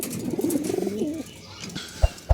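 Pigeons coo in a low, rolling warble for about a second, then quieter rustling and a couple of soft thumps follow.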